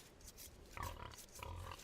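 Faint pig grunts and oinks from the video game Age of Empires II, two short low snorts over a soft hiss of game ambience.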